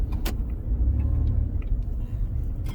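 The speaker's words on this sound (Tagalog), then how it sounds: "It's traffic." Road traffic with passing cars makes a steady, close low rumble throughout, with a brief sharp click near the start and faint higher rattles over it.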